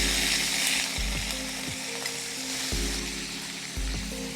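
Shrimp fry in hot soybean oil in a pan for fried rice, giving a continuous crackling sizzle at close range with faint low clunks in the background and no talking.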